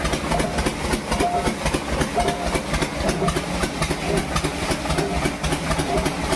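A beaten rice (chira) processing machine that sifts out husks and debris runs with a dense, steady mechanical rumble and rapid rhythmic rattling, loud and continuous throughout.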